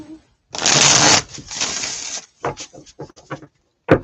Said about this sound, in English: you see how nice those are shuffling